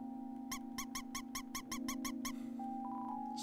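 A cartoonish mouse squeak from the video game Undertale repeats about nine times in a quick, even rhythm, bright and clear over a steady electronic background hum.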